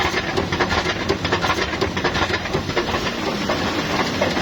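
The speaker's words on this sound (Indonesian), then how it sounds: "Ini unit 6 yang belum dibenerin, suaranya kayak mesin dongpeng." Unit 6 of an offset printing press, not yet repaired, runs with a loud, steady mechanical roar and dense rapid rattling clatter throughout, with no talking.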